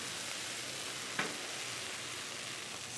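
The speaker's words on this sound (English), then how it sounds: "Okay, so this is boiling. You can see it's really bubbling." Homemade elderberry syrup boils in a pot with a dense, steady hiss of fine bubbling and a single brief louder pop near the middle.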